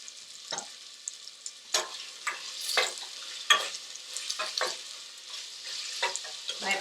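Onions and peppers fry in a pan with a steady sizzle, broken by repeated scraping bursts as they are stirred around, close and fairly loud, with no voices.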